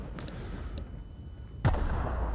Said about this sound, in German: Hier fängt schon wieder an, was zu explodieren